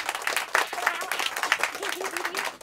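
A studio audience breaks into bursts of clapping on cue, dense applause rising and falling over a few seconds, with crowd voices and some talk mixed in.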